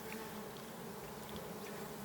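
Steady, fairly faint buzzing of wild bees hovering nearby, continuous and unbroken, with no voices.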